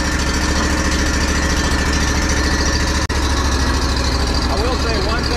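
A riding lawn mower with a Kawasaki engine runs close and loud at a steady idle with a deep rumble, voices heard faintly under the engine noise.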